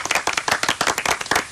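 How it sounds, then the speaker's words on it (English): A brief burst of clapping in a radio studio, a small group of close hands striking quickly and unevenly, loud and dry for about a second and a half. "Have a round of applause."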